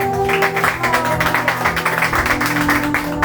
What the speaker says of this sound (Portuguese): Bate palmas para Jesus, igreja.